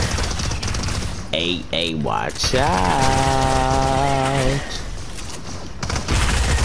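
Rapid video game gunfire from the Fiend Slayer mode crackles in fast bursts throughout, while a player talks over it and a musical tone sounds partway through.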